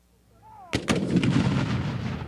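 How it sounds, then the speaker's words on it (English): Artillery cannon fire in a Civil War setting: a faint whistle, then a loud sudden boom with a second blast close behind, followed by a long rumbling roar of continued firing with no talk. "There was the artillery."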